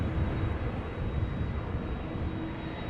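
A passenger aircraft, the first Boeing 747 "queen", landing at Amsterdam Schiphol Airport after a storm: a steady, broad engine roar heard from a distance, fairly loud and unbroken, with no voices.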